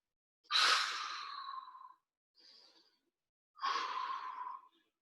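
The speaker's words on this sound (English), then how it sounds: "we're just gonna breathe here, 2 or 3 deep breaths" Deep breaths during a home stretching workout: two long, close airy exhales with a faint short breath between them, heard alone in an otherwise silent room.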